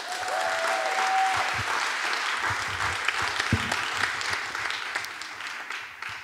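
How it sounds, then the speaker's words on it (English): An audience gives a panel speaker at a political event a sustained, loud round of applause, with steady dense clapping that carries on alone for several seconds and then slowly thins. "can we have a massive round of applause for Tithi?"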